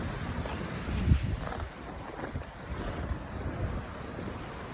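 A waterfall in Swedish Lapland gives a steady, broad rushing roar of falling water, mixed with gusts of wind buffeting the microphone.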